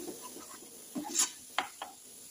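Besan barfi mixture being stirred in a pan with a spoon, giving soft scraping and rubbing strokes with a few sharper scrapes, close and fairly quiet with no talk.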